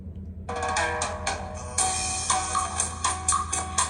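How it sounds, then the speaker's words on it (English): A Nokia 6300 mobile phone plays its ringing tone: loud, dense melodic music starts abruptly after a short pause and continues steadily, close and clear, with no talking over it. "Nokia tone, open gallery, tones, ringing tone."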